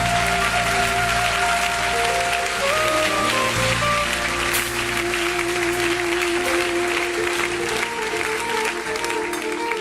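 Church congregation applauding and cheering during a worship service, a steady, dense wash of clapping that runs the whole time, with sustained tones underneath.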